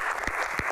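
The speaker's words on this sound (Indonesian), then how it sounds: "Tepuk tangan buat 3 bintang tamu spesial kita" Brief burst of audience applause at an Indonesian Q&A event welcoming three special guest stars, the children of former presidents; dense clapping with a few louder individual claps.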